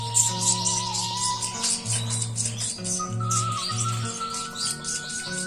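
A person imitates a bird call to feed canary chicks in the nest, making close, repeated high chirps and steady whistled tones, with short breaks between bursts.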